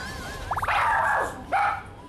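A dog in an office gives a short burst of quick yips followed by two louder, drawn-out barks, close by with no speech.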